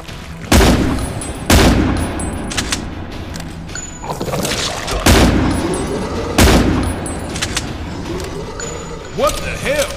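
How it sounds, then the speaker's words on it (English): Shotgun blasts in the horror video game Endless Nightmare 4 Prison, several loud booming shots at irregular intervals with a spoken voice between them. "Shotgun."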